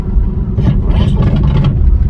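A Jaguar S-Type's engine idles with a steady low rumble and a faint metallic rattle, close by, with no talking.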